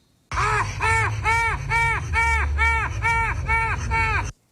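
Harsh, cawing bird call with a croaky, old-man-like quality, repeated about nine times in a steady rhythm, close and loud, with no talking over it.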